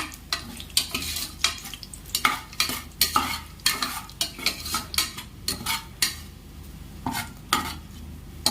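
Ingredients for mutton biryani frying in hot oil while a utensil stirs and scrapes the pan in frequent rhythmic strokes over a constant sizzle, close and fairly loud.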